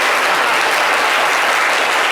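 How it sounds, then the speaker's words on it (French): Dense, loud audience applause greets Chris Ivan on a French-language TV talk show, a steady, continuous wash of clapping that holds evenly throughout with no talking over it. "Applaudissez pour Chris Ivan."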